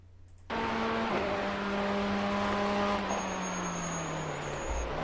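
A race car in the iRacing sim laps Willow Springs on a hot lap, its engine a loud, steady drone with a gear-change dip early and a falling pitch near the end, alone without talk.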